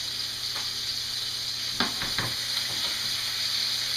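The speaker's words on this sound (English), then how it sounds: "So we're going to make sure that we brown our skin." Chicken skin browns in a pan with a constant bright sizzle and hiss, broken by a few short scraping and clattering stirs in the middle; no voices.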